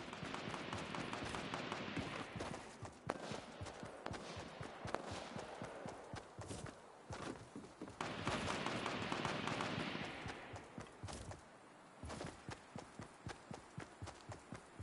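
Pistol gunfire in a video game, a long run of rapid, sharp shots close up, the rhythm at times broken by short pauses.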